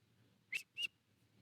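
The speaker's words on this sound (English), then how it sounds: "sorry, I have this habit of whistling when I start going into deep thought." A person whistles while deep in thought during a live coding session: two short, high whistled notes in quick succession, quiet over a faint low background hum.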